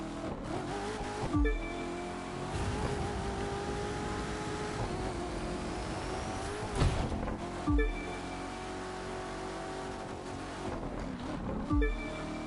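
Hypercar in The Crew 2 racing through turns, engine droning steadily with sharp downshift bursts and tire noise at intervals, alone without talk.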